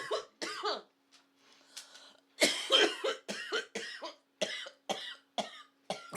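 A woman coughs hard after smoking cannabis flower: a long run of about a dozen rough, hacking bursts, close and loud, separated by short gasping pauses.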